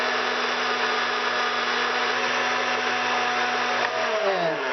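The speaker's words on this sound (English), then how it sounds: "Now you're done with the blender," A blender whirs loudly and steadily up close, frothing egg whites with cornstarch and agave nectar for a pumpkin souffle, its pitch shifting slightly near the end.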